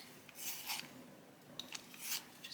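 A colouring pencil gets turned in a small handheld sharpener, giving soft raspy grinding bursts in two or three short spells, faint and close with no talking.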